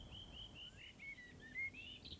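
A blackbird sings in a Scottish Highland forest in winter, a thin, faint, high warbling phrase over a low ambient rumble.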